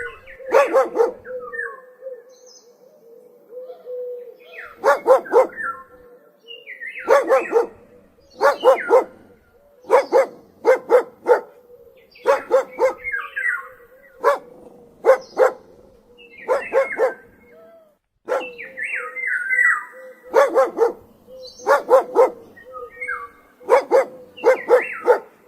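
A dog on a farm barks repeatedly in short bursts of two to four sharp barks, loud and close, with brief pauses between groups and a steady low hum underneath.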